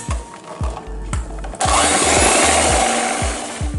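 An electric hand mixer whirs as it beats eggs with sugar and vanilla essence for a plum cake, first bumping and knocking against the bowl in short bursts, then running steadily at high speed with a loud, continuous buzzing drone.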